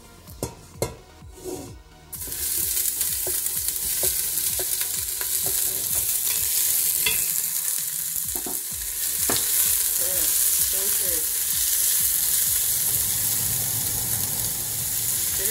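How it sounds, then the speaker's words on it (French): Onions hit hot vegetable oil in a pot for pumpkin soup, bringing on a loud, continuous sizzle with stirring scrapes, after a few opening clatters of utensils against the pot. "ma marmite a déjà chauffé et mon huile a déjà chauffé, elle a été mise. Je peux rajouter les oignons."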